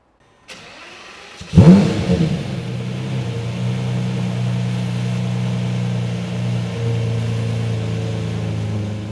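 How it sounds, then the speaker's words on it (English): A Lamborghini Reventon engine fires up with a sharp loud burst, then settles into a steady, deep, strong idle with slight swells, heard up close and alone. "I'm going to start the car and you're going to get to hear it"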